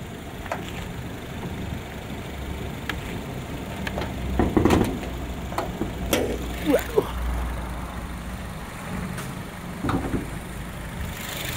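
A 2015 Honda HR-V 1.5 engine idling in an open engine bay, a steady low hum under scattered clicks and handling noises, with no talk.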